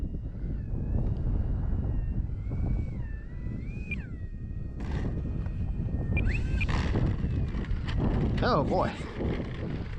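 Strong wind buffets the microphone throughout, a steady low roar with gusts, while a small RC plane's electric motor whines and changes pitch overhead during a high-wind flight test of an Arrows RC Tecnam; a brief exclamation is heard.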